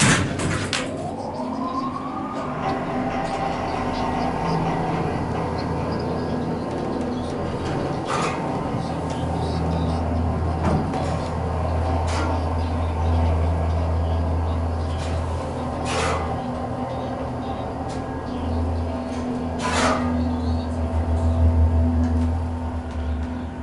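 A Montgomery hydraulic elevator runs in the Montgomery County Courthouse parking garage in Norristown, Pennsylvania, giving a continuous low hum and drone with occasional clunks and sharp knocks, heard up close.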